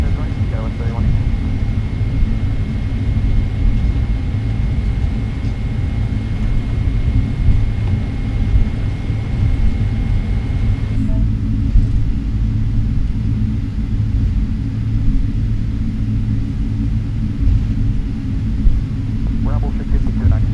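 Boeing 777-300ER at Brisbane airport, a loud steady low engine rumble filling the whole stretch, with radio chatter over it.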